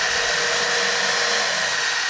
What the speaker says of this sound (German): ich muss doch mal alles neu bohren, so etwa auf der Höhe